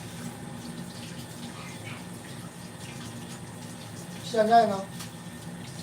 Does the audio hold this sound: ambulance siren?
no